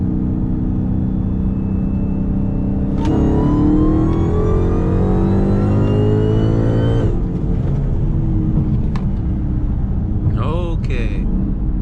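Dodge Hellcat accelerates hard in third gear from a 60 mph roll, loud engine roar rising steadily in pitch for several seconds before lifting off, heard from inside the car over constant road rumble.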